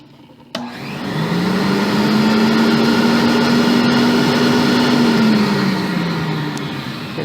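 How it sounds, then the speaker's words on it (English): A Pro-Ject VC-E record cleaning vacuum machine switches on abruptly and runs with a loud, steady whine that rises slightly and then tapers toward the end, with no talking. "and you turn the vacuum on."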